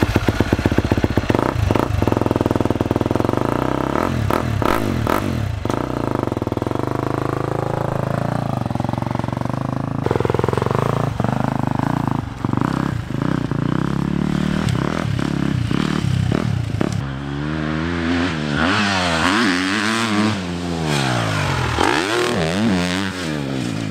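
A motocross motorcycle rides a training track at Pista Motocross Serle in Italy, its engine revving up and down repeatedly with rising and falling pitch, loud and close throughout, with gear changes and brief throttle blips.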